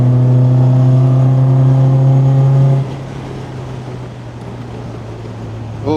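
An MGB sports car on track at Castle Combe, engine droning steadily at high revs and then easing off into a lower, quieter hum as it comes back up to temperature, with no one talking.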